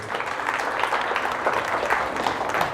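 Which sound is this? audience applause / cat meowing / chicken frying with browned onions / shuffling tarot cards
audience applause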